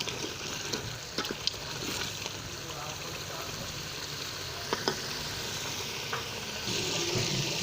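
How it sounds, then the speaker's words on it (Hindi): A spoon stirs biryani mixed with yogurt in a sizzling pot, giving a continuous frying hiss with scattered scraping clinks, while a person talks over it. "दही डालकर हम इसे फिर से हिलाएंगे चम्मच 2-3 मिनट तक।"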